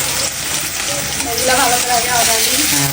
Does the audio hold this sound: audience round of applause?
no